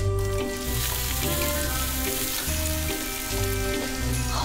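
Moldy tofu sizzling and frying in a pan, a dense continuous crackle close by, with soft musical tones underneath and no talking.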